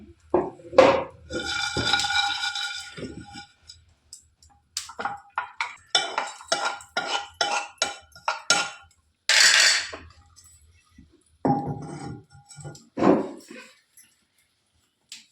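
Fried masala is scooped into a mixer jar as a spoon scrapes and clinks repeatedly against the metal, making a series of close, irregular clatters separated by short pauses.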